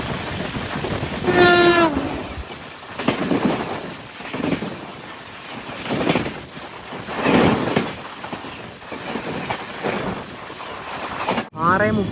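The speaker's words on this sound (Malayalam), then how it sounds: "ട്രെയിൻ ഇപ്പോൾ വടകര റെയിൽവേ സ്റ്റേഷനിലേക്ക് ഇതാ എത്തുകയാണ്" Express train approaching Vadakara railway station in Kerala, a loud horn blast near the start and another at the end over the rhythmic rumble and clatter of the coaches, with voices talking in between.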